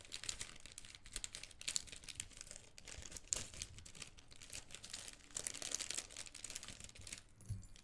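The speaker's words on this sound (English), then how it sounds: "Sorry for the crinkling" A plastic Lego parts bag crinkles close to the microphone, quiet irregular rustling and crackling bursts that continue throughout, with a faint thump near the end.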